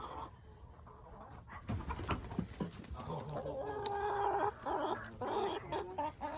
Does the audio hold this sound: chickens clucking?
yes